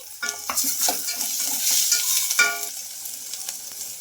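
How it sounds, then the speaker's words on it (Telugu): Onions and chopped tomato pieces fry in a pan while a spatula stirs them, producing bursts of scraping and clinking over a sizzling hiss, loud and close, then fading quieter toward the end. "ఇంకా ఆనియన్స్ కొంచెం కలర్ చేంజ్ అయ్యే వరకు అయితే ఫ్రై చేసుకోవాలి"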